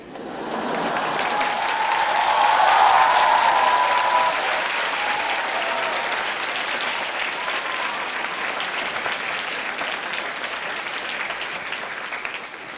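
An audience at a university talk applauds, a full, sustained round of clapping swelling early and then easing off gradually, with a few faint voices mixed in beneath.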